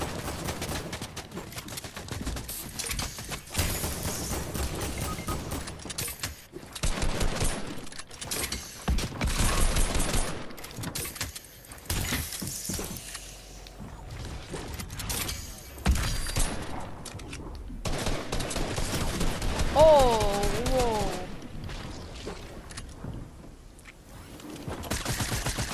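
Fortnite gunfire in gameplay, rapid bursts of automatic shots and fusillades with reload and mechanism clicks, loud and dense throughout, with brief game effects between volleys.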